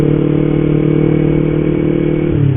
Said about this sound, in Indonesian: Benelli atau apa sih, gue nggak tahu guys.